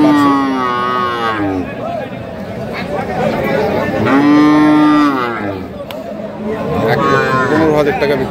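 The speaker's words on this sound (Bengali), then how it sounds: "গাভী এবং বাছুর" Cow and calf mooing at a rural Bangladeshi cattle market, long loud lowing calls repeated three times, close by, over a constant murmur of crowd chatter.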